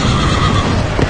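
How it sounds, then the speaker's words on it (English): A horse neighs loudly and close as an audiobook sound effect, one continuous whinny over a dense background that carries faint clip-clop texture. "Another horse, fiery red, went out."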